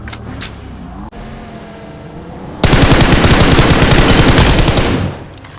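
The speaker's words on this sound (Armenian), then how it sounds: "Ուր ես կրակում դա" Sustained machine-gun fire in a mobile battle royale video game, a loud continuous rapid volley lasting about two and a half seconds after quieter in-game ambience, with no talk over it.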